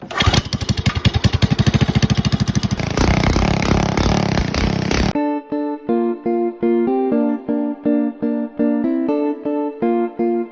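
Small go-kart engine, Predator 212-style, fires up and runs with a fast loud chattering idle, then settles into a steady buzzing tone broken by brief rhythmic gaps, no voices.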